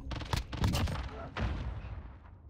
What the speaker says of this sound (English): Love hit markers.